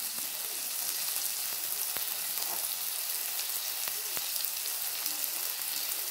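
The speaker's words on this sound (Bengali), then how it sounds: "এবার মশলাটা ভালো করে কষিয়ে নেব।" Spice paste with salt frying in a pan for a vegetarian kohlrabi curry, a steady, close, dense sizzle with occasional faint stirring taps and no talk.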